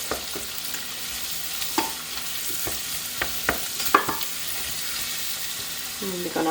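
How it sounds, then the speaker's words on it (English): Garlic and spices fry in a pan while being stirred. A steady moderate sizzle carries intermittent spatula scrapes and taps, with a brief clatter near the end. "Give it a good mix."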